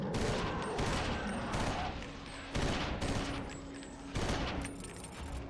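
Gunfire in Eternal Darkness: Sanity's Requiem comes in three loud, dense bursts of rapid shots, close and continuous, each separated by a brief lull.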